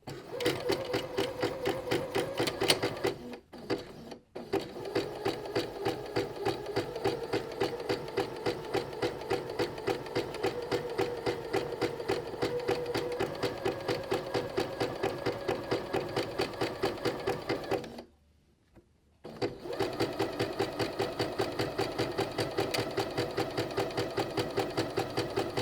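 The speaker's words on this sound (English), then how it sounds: "Now I'm sewing with an universal needle and I'm doing a zigzag stitch." A sewing machine with a universal needle runs a zigzag stitch through stretch fabric, a steady rapid mechanical chatter that continues alone for long stretches, pausing briefly twice before starting up again.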